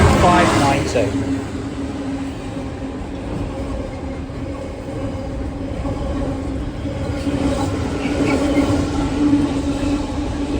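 A double-headed Freightliner Class 66 freight train runs through Barking station in London, a steady heavy diesel rumble with wagon noise rolling past continuously and close by, with no talking.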